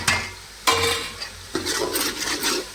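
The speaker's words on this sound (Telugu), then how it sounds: "తర్వాత కాస్తంత కరివేపాకు" Curry leaves drop into a hot sambar tempering with a sudden crackling sizzle, followed by spoon stirring and scraping against the pan in short bursts, close and clear, with no voices.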